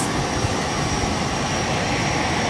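Inside a passenger airplane cabin, the jet engines give a steady, loud whooshing drone that fills the space evenly with no voices.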